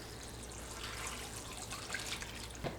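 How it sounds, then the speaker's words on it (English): Four cups of beef stock poured into a slow cooker, a soft continuous liquid trickle and splash close by with a few brighter drips toward the end, quiet and alone. "And then the only thing left to add is 4 cups of beef stock."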